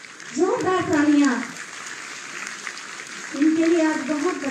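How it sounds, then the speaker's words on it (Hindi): Loud clapping from an audience at a Uttar Pradesh municipal ceremony for house key recipients, a continuous wash of applause with a woman announcer's voice speaking over it at the start and end. "जोरदार तालियां"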